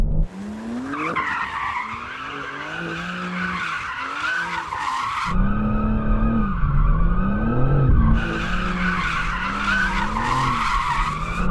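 Tires squeal and skid in long wavering screeches over a loud revving Porsche sports car engine, continuous and close throughout.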